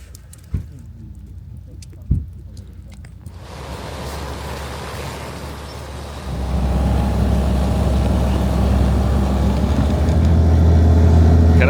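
A car's engine rumble and tire roar on a rough Kolyma road in Magadan region build steadily after a couple of knocks, growing louder and continuous as the vehicle drives onward.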